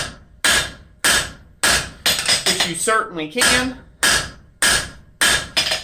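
Sharp metallic hammer blows on copper being forged by hand ring out at a steady pace, each strike followed by a brief ringing decay; someone speaks briefly midway.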